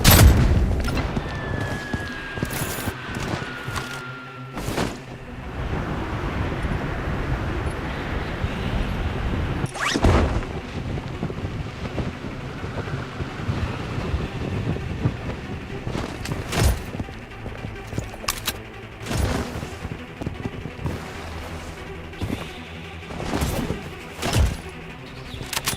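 Blood Strike gameplay with heavy gunfire: rapid bursts of shots and booming blasts crackle steadily across the whole stretch, loud and dense, with brief muffled voice chatter underneath.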